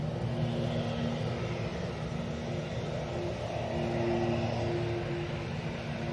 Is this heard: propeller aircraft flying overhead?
yes